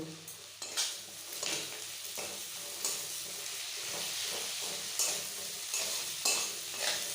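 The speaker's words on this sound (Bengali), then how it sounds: "পেঁয়াজটা হালকা ব্রাউন ভেজে নিয়েছি এবার আমি এর মধ্যে এই কাটা টমেটোগুলো দিয়ে দেব" Chopped tomatoes go into browned frying onions for a prawn curry, giving a soft hissing sizzle with repeated scraping stirs at a regular pace, quiet and close with no voices.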